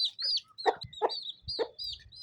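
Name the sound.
Aseel hen with two chicks clucking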